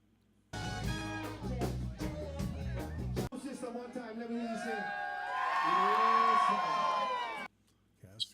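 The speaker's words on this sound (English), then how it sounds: "Crowd tracks." Crowd track from a live recording session at the Slack Key Lounge, with a rowdy audience cheering, whooping and shouting over loud low band sound, rising into sustained high cheering and whistling before cutting off.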